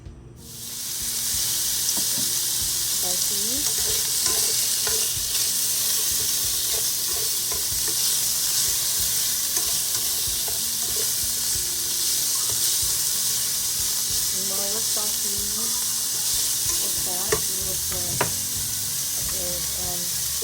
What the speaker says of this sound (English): Start to saute.